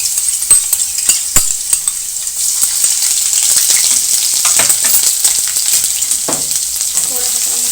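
Garlic ginger paste hisses and sizzles in hot oil left from frying onions for keema, a steady loud fry with occasional clinks and stirring scrapes from a utensil.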